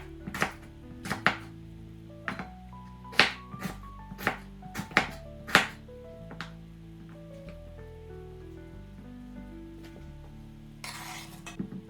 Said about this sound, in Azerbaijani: Kal pomidoru da 2-yə bölüb özək hissəsini kəsib çıxardıram və dilimlərə bölürəm.